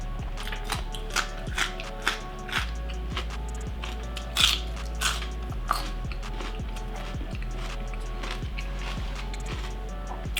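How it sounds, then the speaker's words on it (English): Loud, crisp crunching of crunchy vegetables being chewed up close, as part of a very large meal, with irregular bites and sharp cracks repeating steadily over a low steady hum, no talking. "this is no simple feat to chew up all this food"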